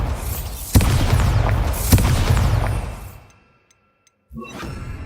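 Booming magical blasts from a Bombarda spell in Hogwarts Legacy hit twice in quick succession, loud and crashing with a shattering tail, then fade to near silence before another rumbling burst rises.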